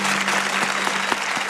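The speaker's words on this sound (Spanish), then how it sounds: "esos aplausos que se escuchan y los golpes en la mesa" Applause from Fernando Cabrera mixed with knocks on a table by Darnoyan, a dense patter of claps with a steady tone underneath and a few sharper thumps standing out near the end.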